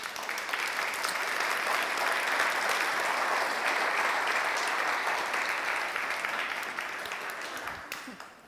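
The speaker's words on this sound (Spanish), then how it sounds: "Demos un aplauso a Dios por ello." A church congregation applauds at a Spanish-language service, a steady, dense wash of many hands clapping at even loudness for several seconds before it begins to fade near the end.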